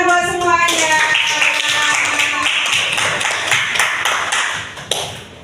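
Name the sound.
classroom clapping hands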